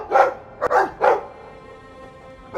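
A dog in the video game Dragon Age 2 barks three times in quick succession, close and clear, followed by quiet.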